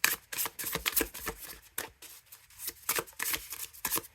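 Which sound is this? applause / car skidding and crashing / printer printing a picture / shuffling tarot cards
shuffling tarot cards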